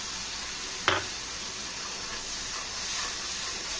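Whisked yogurt, thinned like buttermilk, poured into a hot pan for a spicy koi fish curry, giving a brief splash followed by a steady soft sizzle and hiss that fills the clip.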